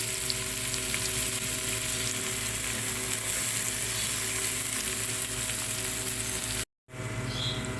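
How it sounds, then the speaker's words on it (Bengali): Chopped onion sizzles in hot oil in a frying pan for a fish curry, a loud continuous crackling fry close by that cuts out briefly near the end. "ওই ফ্রাই প্যানে আমি এখন পেঁয়াজ দিয়ে দিব পেঁয়াজটা একটু বাদামি করে ভেজে নিব"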